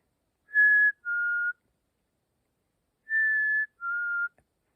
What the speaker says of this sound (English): I also heard the clear whistled notes of a couple of black-capped chickadees